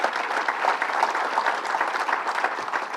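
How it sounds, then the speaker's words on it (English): Crowd applause at a governor's announcement in Rochester, a continuous, even roar of many hands clapping at moderate loudness with no pauses. "Let's give him a round of applause."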